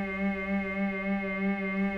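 Synthesizer oscillator holding a steady harmonic-rich tone whose level swells and dips in a smooth, slow sine-wave LFO pulse, about four cycles over two seconds, heard alone.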